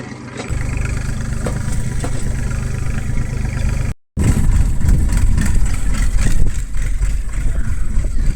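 A tractor engine idles steadily at a farm, a continuous low rumble that runs through the whole stretch apart from a brief cut midway, with no talk over it.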